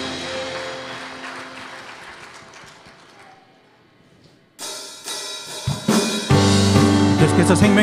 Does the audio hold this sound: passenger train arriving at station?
no